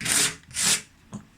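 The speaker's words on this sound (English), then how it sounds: "These corners here, you sand them just lightly." Light hand sanding of a wooden furniture corner for a shabby chic distressed finish, two close, breathy rasping strokes followed by a brief softer scrape.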